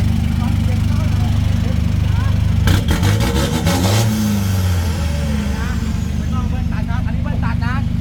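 A Chevrolet pickup with a racing exhaust idles loudly close by, then a burst of quick revs rises and fades before a steady rumble returns, with people talking over it.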